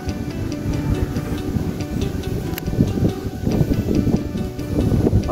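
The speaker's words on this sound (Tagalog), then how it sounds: "Grabe oh, ang lakas ng hangin sa taas oh." Strong typhoon wind roars steadily at a pigeon loft, a dense continuous rushing noise with gusty swells and no talking.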